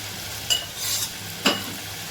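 Carrot halwa with ghee-fried cashews stirred in a pan, two brief scraping strokes of the spoon with a soft sizzle between them, close and alone, no talk.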